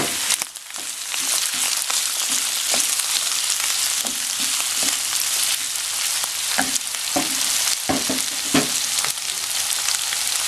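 Diced potatoes dropped into a pan of cooking ground pork, giving a loud, steady sizzle and crackle throughout, with scraping stirs and occasional clinks of the utensil on the pan.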